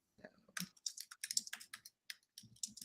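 Rapid typing on a computer keyboard while asking an AI chatbot a question, with irregular bursts of crisp close keystrokes and short pauses, fairly quiet and without voices.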